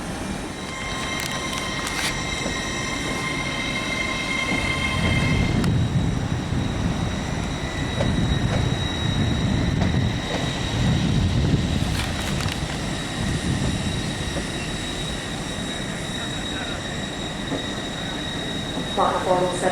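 A ScotRail class 385 electric train at Edinburgh station hums and rumbles through a platform, with a rising then easing roll and high electrical whines, while a voice speaks in the background.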